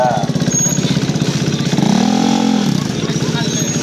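A drag racing motorcycle engine at a dragbike event, a loud buzzing drone that rises in pitch midway and then drops back, heard close under excited voices.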